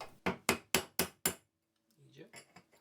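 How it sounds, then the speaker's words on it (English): Hammer blows drive a new bearing into a boat's windlass, five sharp metallic strikes in steady rhythm, close and loud, followed by quieter clinks and handling noises. "We went with hammering."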